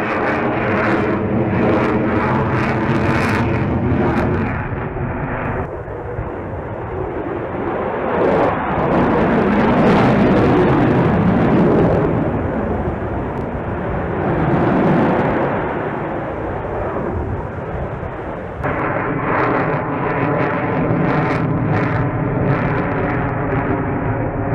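A jet fighter flying thrust vectoring maneuvers roars continuously and loudly, its engine noise swelling and shifting in pitch as it passes, with no talk.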